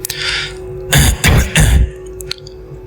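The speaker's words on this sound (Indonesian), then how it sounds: "Suara batuk itu terdengar lagi" A single person coughs and clears their throat, three rough, close bursts in quick succession after a quiet moment.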